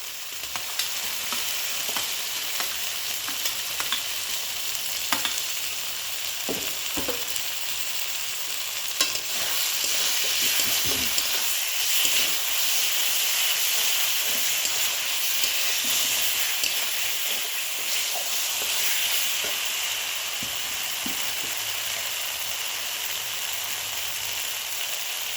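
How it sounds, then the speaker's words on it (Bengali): Chopped tomatoes sizzling loudly in hot frying oil for a catla fish curry with cauliflower, a steady hiss with stirring scrapes and clinks throughout. "একটু নাড়াচাড়া করে এর মধ্যে দিয়ে দিচ্ছি কুচিয়ে রাখা টমেটো"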